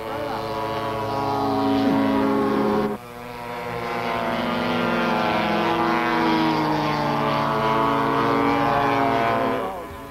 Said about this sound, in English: This model Cub is exactly 1/2 the size of the original.